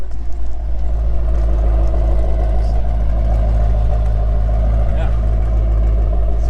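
A Cadillac CTS-V with an aftermarket exhaust idles close by, a deep, steady low rumble with a faint rhythmic burble throughout and no change in revs.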